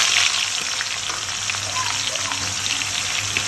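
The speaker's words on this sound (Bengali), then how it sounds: "রোজটা ভাজি এই তেলেই দিয়ে দিলাম," Pieces of chicken roast fry in hot oil, a loud, close, continuous crackling sizzle that holds steady from start to end.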